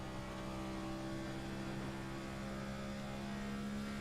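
A race car engine in a racing video game drones steadily as it powers out of a long corner at Old Atlanta, a constant mid-level hum with faint rising tones and no voices.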